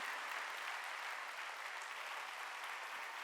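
A church congregation at a Korean Wednesday worship service bursts into sustained, dense applause, steady and loud throughout with no speech over it.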